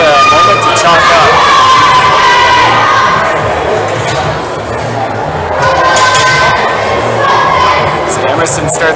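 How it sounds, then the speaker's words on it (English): A crowd at a top rope climbing finals cheers and shouts loudly, a sustained roar that swells and dips over several seconds, mixed with nearby voices. "Emerson getting some cheering from the crowd."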